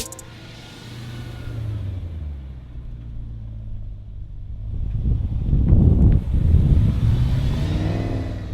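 A BMW E92 M3 engine rumbles low and steady while driving, swelling into a louder, deeper roar near the end, with wind noise around it.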